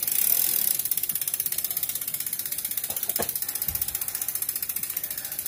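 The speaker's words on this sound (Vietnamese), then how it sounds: "cái cá của nó nghe cũng rất là lớn" Freehub pawls of a Giant ATX860 mountain bike click in a fast, even ratchet as the wheel spins freely, close and alone, with a brief soft knock partway through.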